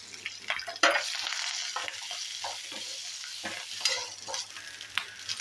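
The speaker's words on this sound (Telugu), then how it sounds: "తర్వాత దీనిలో 4 కరివేపాకు రబ్బలు వేసేసుకొని బాగా వేయించేసుకోవాలి." Coconut pieces and curry leaves frying in a pan, a faint continuous sizzle broken by intermittent stirring scrapes and clinks, close up with no speech.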